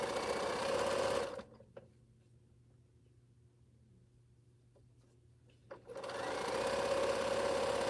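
A sewing machine stitches a quilt pattern in a home sewing room, running loud and steady at the start and again at the end, with a quiet pause between the two runs and no voice heard.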